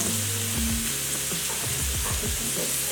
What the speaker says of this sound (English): So I'm cooking it on low heat because we don't want the burgers to cook on the outside and not on the inside